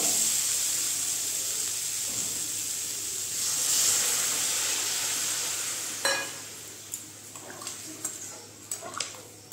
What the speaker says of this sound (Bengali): এখন আমি এটার মধ্যে দিয়ে দিচ্ছি অল্পটুকু জল।